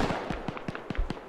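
Gunfire in a World War II game set at the Third Battle of Kharkov, a rapid series of sharp cracks at a steady beat, roughly seven shots within about a second, fairly quiet and with no talk over them.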